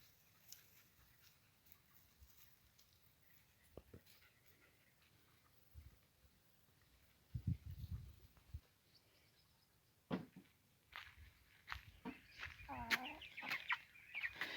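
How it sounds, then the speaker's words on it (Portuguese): Chickens and small chicks clucking and squawking on a farm after a dog chased them, faint and sparse at first, then growing into louder, busier agitated clucks toward the end. "Correu ali atrás dos pintinhos, os bichinhos nem podia correr muito"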